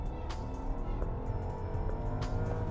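A 2018 Rolls-Royce Phantom launches from a standstill and accelerates hard, a loud continuous engine roar and road rush heard from inside the cabin with no talking.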